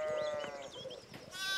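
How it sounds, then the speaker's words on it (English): Sheep in the video game Pentiment bleat in wavering calls, several overlapping voices over a soft game ambience. "we need to get these sheep under control"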